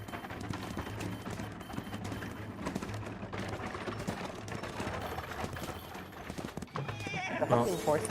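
Horse neighing and clip-clop hooves in the Identity V game, a whinny rising near the end over busy game sound and chatter, with people talking throughout.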